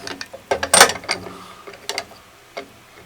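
A quick release blade tension lever is bolted onto a Porter-Cable bandsaw, with close, sharp metallic clicks and ratcheting taps in an irregular cluster followed by a few sparse knocks.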